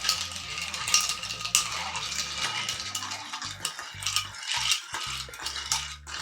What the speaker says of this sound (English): And then Stir it up.